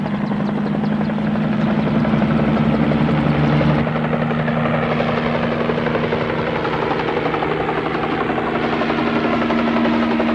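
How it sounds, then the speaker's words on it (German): A firefighting helicopter roars steadily and loudly overhead, its rotor thumping and engine drone continuing without pause for the whole stretch. "Und Hubschrauber müssen helfen, denn die können von oben löschen."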